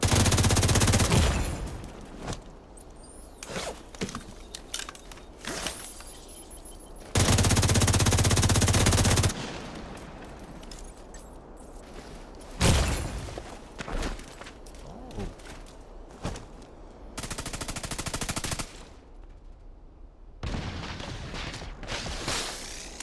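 SMG fire in a video game comes in repeated rapid bursts and long sustained sprays, loud and close, separated by short quieter gaps.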